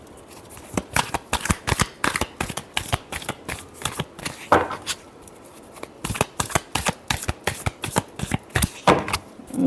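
Tarot cards are shuffled by hand in rapid riffling bursts, crisp snapping flutters repeating close to the ear with a short pause midway.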